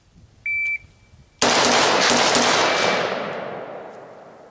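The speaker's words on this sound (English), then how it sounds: "Ready position, fire 4 shots." A single sharp, loud report from a 13.7-inch rifle follows a brief electronic beep. The crack is near and forceful and trails off into a long decaying echo, with no separate follow-up shots.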